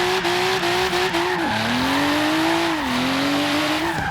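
A 500hp RB26-powered widebody Datsun 510 drifts in Forza Horizon 3, the engine droning loudly and steadily while its pitch dips and recovers with tire squeal through the slide.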